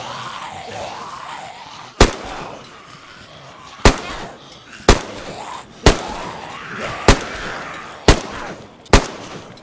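Loud, sharp unsuppressed gunshots in the video game DayZ, fired with a broken suppressor, ring out one at a time at irregular intervals, seven in all, each with a brief echoing tail over low background noise.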